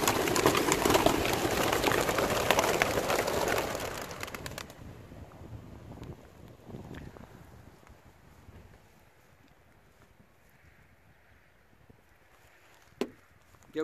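Sixty-eight racing pigeons are released for a 53 km training flight, their wings flapping in a loud, dense burst that fades within a few seconds to quiet wind noise and a faint distant sound.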